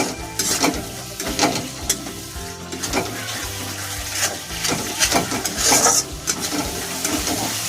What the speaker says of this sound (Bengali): তো এক মিনিট ধরে আমি একটু কষিয়ে নেব